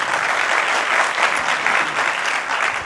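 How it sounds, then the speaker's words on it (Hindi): An audience at a mushaira poetry gathering in Patiala breaks into dense, steady applause that stays loud and continuous for the whole short stretch. "एक बार आज के इस मुशायरे के लिए जोरदार तालियां"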